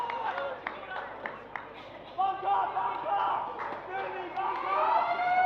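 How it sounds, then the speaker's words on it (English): The quarter-end siren at a WAFL Colts Australian football match between East Fremantle and Subiaco sounds as a long droning wail over crowd noise, with a commentator talking throughout. "And Siren, there she goes."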